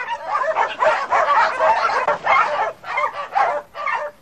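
A crowd of rescued stray dogs kept in a small house bark and yap together in a dense, overlapping chorus, close and fairly loud, with short high yips throughout and no talking.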